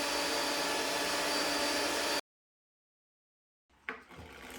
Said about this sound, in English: we're going to continue to beat the egg whites until they form peaks